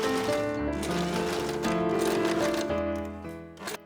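A sewing machine stitches a facing onto a vintage 1940s-style yoked blouse, running steadily in one continuous burst for about three seconds before slowing and stopping, close and clear with a faint hum underneath.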